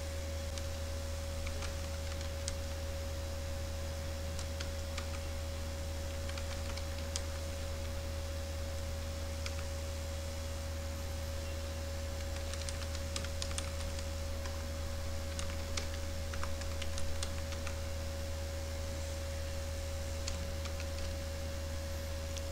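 A password being typed on a computer keyboard, with soft, irregular key clicks spread sparsely over a long stretch and a steady electrical hum beneath, no talking.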